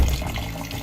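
Water runs steadily into a bowl of rice for washing, a short close continuous pour with no talking.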